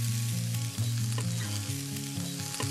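Smoked bacon renders its fat in a frying pan, giving a continuous close sizzle with occasional scraping stirs throughout.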